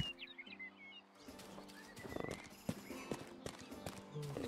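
In the medieval video game Rustler, a horse gives a high whinny, followed by irregular clopping hooves and thuds under a light musical score.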